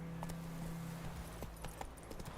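Hooves of Roach the horse galloping in a video game, a faint, rapid clip-clop rhythm under a low steady hum, with no talking.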